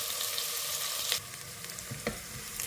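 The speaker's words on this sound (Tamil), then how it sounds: "வெங்காயம் போட்டால் நல்லா வதக்கிடுச்சு" Onions sauté with a little salt in a pan, making a constant, busy sizzle close by, with a few soft stirring scrapes and taps on top and no voices.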